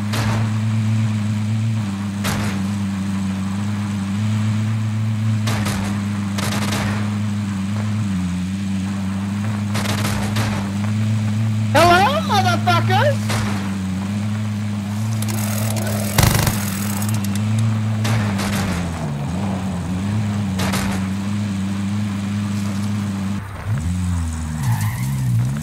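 Car engine from Call of Duty: Modern Warfare hums steadily while driving, broken by repeated tire skids and squeals and a few sharp bangs.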